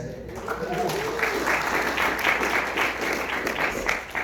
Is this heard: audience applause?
yes